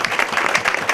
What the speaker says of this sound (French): Et on peut les applaudir, vous savez, parce qu'ils avaient tout organisé.